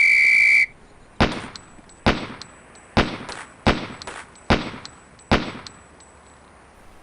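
A sharp whistle blast starts a police SWAT training drill in Police Quest: SWAT, followed by six evenly spaced, loud pistol shots ringing out one after another.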